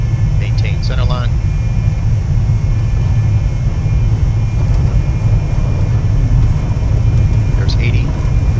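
Cessna Citation II business jet engines spooling at full takeoff power in the X-Plane 11 flight simulator, a steady loud roar with deep low rumble running throughout, with faint brief cockpit sounds near the start and end.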